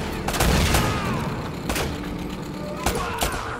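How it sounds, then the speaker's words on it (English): Gunfire erupts in a shootout in Uncharted: Drake's Fortune, with several loud cracking shots scattered across a few seconds over rumbling game ambience. "Less talking, more shooting!"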